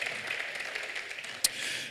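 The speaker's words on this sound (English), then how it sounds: "Please, a round of applause." Applause from a conference audience at a tech industry event on Africa's compute infrastructure, faint and distant, a steady wash of clapping with one sharp click near the end.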